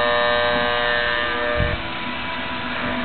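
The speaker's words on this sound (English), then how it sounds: "And now, the grinder." An industrial grinder runs while shredding flashcards, a steady tonal electric whine and buzz with a brief lower thud partway through, after which the drone continues slightly quieter, with no speech.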